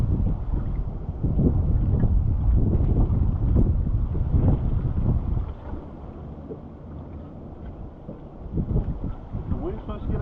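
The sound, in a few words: wind blowing around a fishing boat on the water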